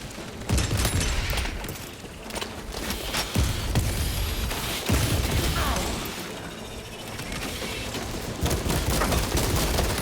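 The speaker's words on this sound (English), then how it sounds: "Gotta make sure I dodge these explosions here." Repeated loud explosions and bursts of gunfire over a dense, chaotic battle din in the video game Warhammer 40,000: Space Marine 2, continuous and close.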